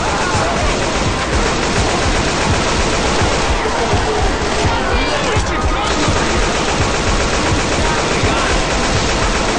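Machine-gun fire from a shooting video game rattles in dense, rapid bursts almost without pause, loud and close, while voices talk over the shooting.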